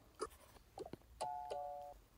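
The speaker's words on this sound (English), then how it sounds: "Did you guys hear that doorbell?" A Toca Life doorbell chimes in a clear two-tone ding-dong, ringing out after a few soft taps and clicks in an otherwise quiet scene.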